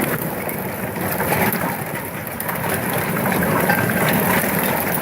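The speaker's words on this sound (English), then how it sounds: "now it's hailing and raining in 71" Rain mixed with hail falls steadily outdoors, forming a dense, even hiss of drops and pellets striking surfaces that swells slightly toward the end, with no voices heard.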